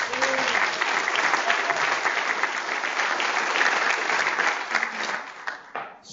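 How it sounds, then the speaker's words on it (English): An audience at a leadership talk breaks into a quick, loud round of applause, with many hands clapping steadily for several seconds before it tapers off. "So quick round of applause."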